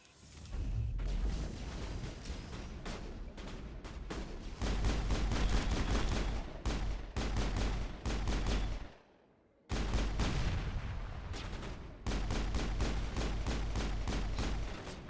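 Rapid gunfire from a combat scene in the video game Mass Effect 1, dense bursts of shots cracking almost continuously, dropping out briefly near the middle before resuming at full intensity.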